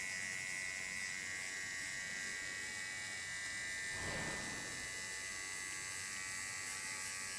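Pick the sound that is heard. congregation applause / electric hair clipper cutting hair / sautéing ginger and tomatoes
electric hair clipper cutting hair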